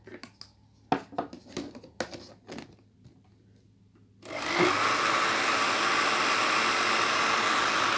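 A blender grinds chocolate sauce ingredients, a loud steady whirring drone that starts abruptly partway through and runs continuously after some earlier clinks and knocks.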